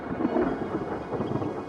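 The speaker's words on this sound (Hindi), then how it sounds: "इनमें सिर्फ गरज और बिजली है, लेकिन वो बारिश नहीं जिसकी सख्त जरूरत है।" Thunder rumbling from storm clouds over dry plains, a low rolling roar that swells and fades, continuous and fairly close, with no rain and no voices.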